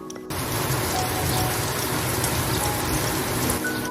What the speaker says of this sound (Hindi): और उसके कुछ ही देर बाद बहुत तेज बारिश होना स्टार्ट हो गई।